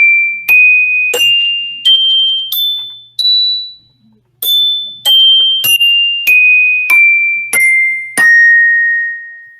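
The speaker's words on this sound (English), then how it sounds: "Sophie is going to demonstrate the bells for us." A beginning band student plays the bells in a school recruitment demonstration, striking about a dozen clear ringing notes one by one. The notes climb, pause briefly, then step back down, each one bright and sustained.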